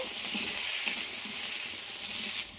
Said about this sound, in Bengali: কেটে রাখা আলুগুলো দিয়ে দেব আলুগুলো একটু লাল করে ভেজে নেব